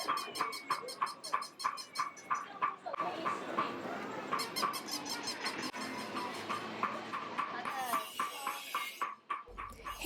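A dog giving a rapid series of short yips and whimpers, fairly close, with brief pauses between the bursts of sound.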